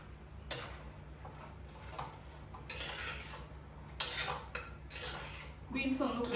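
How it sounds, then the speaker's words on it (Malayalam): Green beans being stirred in a pan with a little water and salt, utensil scraping and clinking against the metal in bursts of several strokes, fairly close, with no talking. "ഇനി ഇതൊന്ന് ഇളക്കി മിക്സ് ചെയ്തതിന് ശേഷം"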